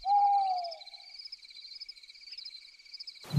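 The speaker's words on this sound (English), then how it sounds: "cricket sounds at night" Crickets trill steadily at night as Minecraft ambience, a continuous high chirping drone with a second fainter insect line. A brief owl-like hoot opens the clip and a short thump ends it.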